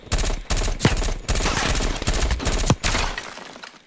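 Rapid bursts of M16 rifle fire in Black Ops Cold War, loud and close, with short gaps between volleys over a busy game background.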